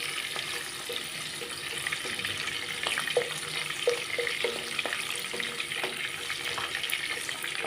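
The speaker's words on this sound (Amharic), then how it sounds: "እየጠበስኩት ነው።" Garlic frying in a pan, giving a steady soft sizzle with faint crackles and occasional light clicks of stirring, close and alone with no talk.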